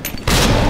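Grenade explosion in the video game Resident Evil 2 during a boss fight: a loud, sustained burst of blast and debris noise breaks in after a brief quieter moment and holds to the end.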